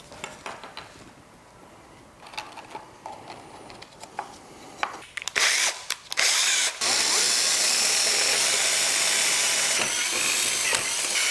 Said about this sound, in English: I've just got to drill out some holes to make it hold the new battery